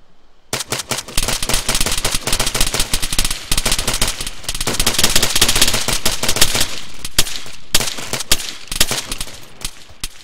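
Dense bursts of automatic gunfire and rapid single shots in a tactical shooter video game, loud and close, sustained for several seconds with brief gaps and no talking.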